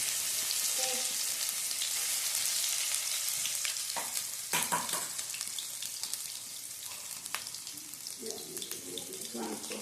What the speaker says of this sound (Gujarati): હવે આપણે એની અંદર આદુ લસણ મરચાંની પેસ્ટ નાખીશું